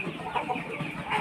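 A tiger chicken, raised like a desi hen, gives soft low clucks at close range over faint background noise.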